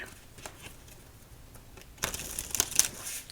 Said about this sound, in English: let's shuffle up these cards